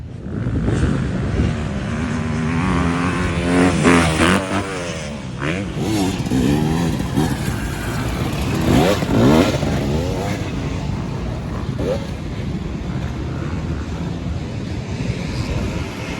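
A motocross dirt bike at an MX207 off-road race, ridden through track turns and into the woods, revs and roars up close, pitch climbing and dropping with throttle blips and steady wind buffeting throughout.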